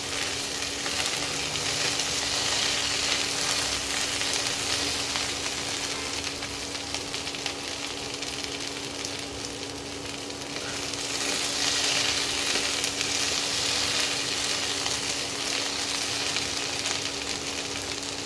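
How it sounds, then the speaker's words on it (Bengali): Chopped okra sizzles steadily in a hot pan, a continuous close frying hiss lasting the whole stretch with a faint stirring texture and a low steady hum underneath. "ঢ্যাঁড়সটা দেখো অল্প ভাজা ভাজা হয়ে গেছে।"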